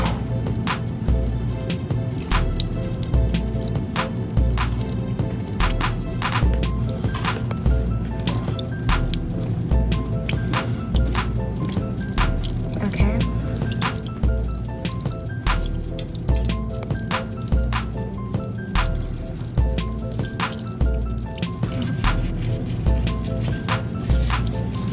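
Running water pours over hands being rinsed at a sink, a continuous splashing and dripping stream, close and steady throughout with no talk.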